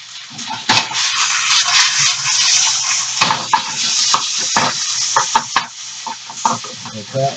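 Chicken wonton filling sizzling and frying in a hot pan, a steady loud hiss with repeated scraping stirs and clicks from a utensil throughout.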